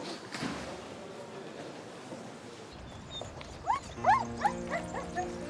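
A puppy whimpers and gives a few short, high yelps and whines close by, coming in over a muffled indoor background where people can be heard talking faintly.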